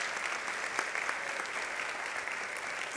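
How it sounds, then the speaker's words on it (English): A commencement audience at a nursing school gives steady, dense applause for Georgetown nursing alumni. The clapping is even and sustained, with no voices above it. "hope you join me in an acknowledgement clap for any alumni for Georgetown School"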